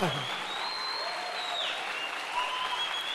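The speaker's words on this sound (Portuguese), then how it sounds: "Então aplaudo no Senhor na medida da sua força." Church congregation applauding together in a steady, dense wash of clapping throughout, with voices and faint sung or sustained tones mixed in beneath.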